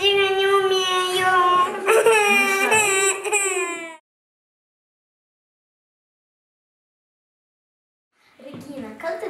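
A young child in a kindergarten group wails loudly for several seconds, then falls silent, before a brief whimpering cry returns at the end.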